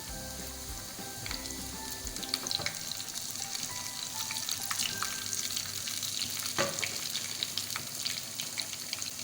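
Garlic, cumin and whole red chilies sizzle and crackle steadily in hot oil, with scattered pops and spatters over a continuous hiss.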